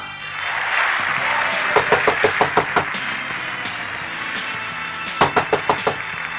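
Knuckles rap on a door in two quick bursts, first about eight sharp knocks and then about five more after a pause, heard over background music.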